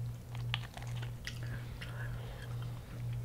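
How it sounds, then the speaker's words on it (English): Crunchy chewing and biting of Hot Cheetos-coated fried food such as king crab, shrimp or mac and cheese balls, heard close and quiet as a run of irregular crunches over a steady low hum, with no talk. "That's how I'm chewing that thing."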